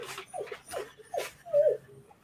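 A dog whimpers close by, giving four short, high whines in a row with faint breathing between them.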